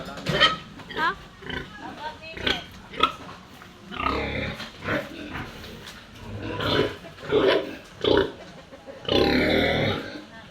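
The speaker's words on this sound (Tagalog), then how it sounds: "sa pagpapakain at paglilinis po ng ating mga alagang baboy" Pigs grunt and squeal in bursts at feeding time on a farm, close by and fairly loud, while people talk over and between the animal noises.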